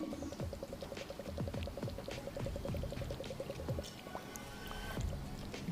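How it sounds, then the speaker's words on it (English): A toy water gun magazine being filled by holding it under the water of a swimming pool, with a rapid series of small gurgles and bubble pops, then lighter dripping and splashing, close up and without voices. "Just fill it in the pool until the bubbles stop."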